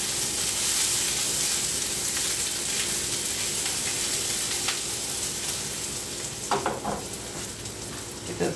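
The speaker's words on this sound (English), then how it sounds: "Get those onions to brown up" Onions frying in a pan, browning with a steady, close sizzle and hiss that carries throughout, with a few clinks of stirring near the end.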